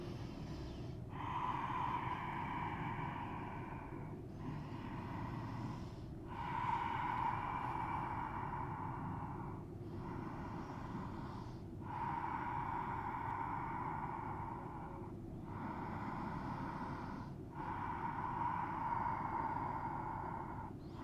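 Slow yoga breathing during a vinyasa class: long, audible breaths repeat in an even rhythm, each lasting a few seconds with short pauses between, close and steady over a constant low background hum.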